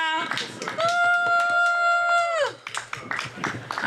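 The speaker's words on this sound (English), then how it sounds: "Let's give them a round of applause, y'all." A live audience claps in a short, scattered burst, and a loud held whoop rises over it and then breaks off; the clapping continues sparsely after.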